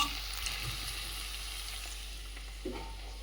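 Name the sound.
onions, green chillies and curry leaves frying in a pan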